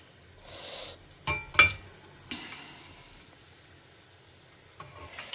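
Ladies finger (okra) frying in oil in a home kitchen, with a faint steady sizzle and a few louder stirring or clattering bursts near the start and again at the end.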